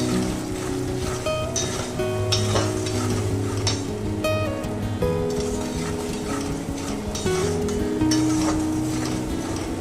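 Cumin and green chili paste masala fries and is stirred in a pan for hilsa fish curry, giving a steady close sizzle broken by scraping stirring strokes, with background music playing.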